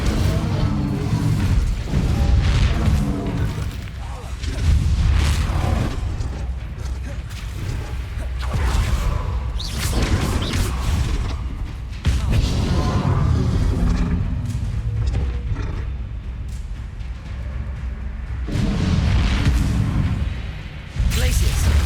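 Spell explosions in Hogwarts Legacy boom and crash in repeated bursts amid combat, loud thuds and blasts recurring every few seconds, with a voice calling out spell names between them.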